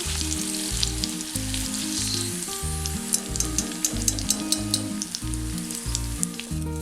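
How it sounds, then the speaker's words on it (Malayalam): Cashews and raisins sizzle steadily in hot oil while Malabar chicken biriyani is made, with onions and curry leaves in the pan. The crackling frying is continuous and close, with occasional stirring and music playing underneath. "ഇത് കണക്കെയാണ് നമ്മൾ സവാളയും കശുവണ്ടിയും മുന്തിരിയും കറിവേപ്പിലയൊക്കെ ഒന്ന് വറുത്തെടുത്തേക്കണം കേട്ടോ"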